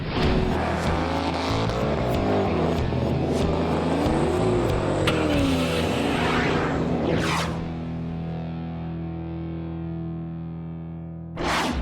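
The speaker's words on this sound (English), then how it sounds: "a 1966 Dodge Coronet with the king of Chrysler V8s." A 1966 Dodge Coronet muscle car with the 426 Street Hemi V8 driving: a loud, rough engine rumble with rising and falling revs, then a gear change and a steadier, quieter drone before a final burst.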